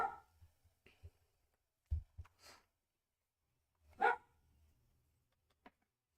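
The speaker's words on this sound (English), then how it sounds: "Can you guys hear my dog barking?" A dog barks indoors in a few separate, sharp bursts with long quiet gaps between them, moderately close, with faint breathing sounds and no talk.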